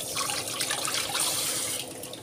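A kitchen tap runs steadily while someone washes their hands before eating, with water splashing into the sink close by, continuous and fairly loud through the whole moment.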